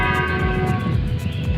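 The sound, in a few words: church bells ringing at six o'clock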